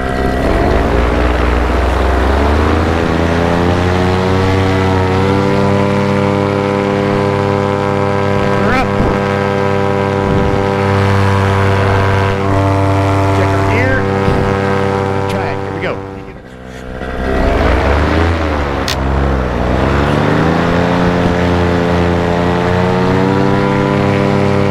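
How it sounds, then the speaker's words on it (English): Engine of a wet-wing ultralight aircraft during a no-wind takeoff, a loud, steady, close propeller drone with strong harmonic tone that dips briefly midway and then surges back to full power. "We're going to try to do a no-wind takeoff with a wet wing."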